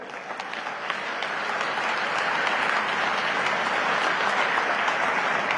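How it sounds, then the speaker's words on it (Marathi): A large crowd claps steadily and densely at a political victory rally in Solapur, sustained applause filling the space without a break. "या टाळ्या माननीय देवेंद्र फडणवीस साहेबांच्यासाठी आहेत"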